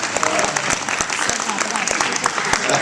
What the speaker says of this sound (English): Slow clap is the new thing that's going to be following me around